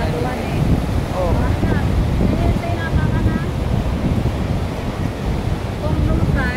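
Ocean waves wash and break in Dana Harbor at high tide, a continuous broad rushing surf with wind buffeting the microphone, while people chat faintly in the background.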